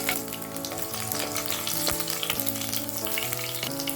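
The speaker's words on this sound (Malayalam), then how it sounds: "കടുക് പൊട്ടി വരുമ്പോൾ ഒരു 2 പച്ചമുളക് കീറിയതും കൂടി ഇട്ട് കൊടുക്കാം." Mustard seeds and slit green chillies sizzle and crackle in hot coconut oil for a tomato curry, a steady dense frying hiss with scattered sharp pops, close and fairly loud, no voices.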